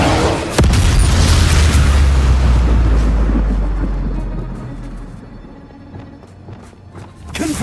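A Bombarda spell explosion in the video game Hogwarts Legacy: a loud, close booming blast with a heavy low rumble that swells and slowly fades over several seconds, followed by scattered debris clatter.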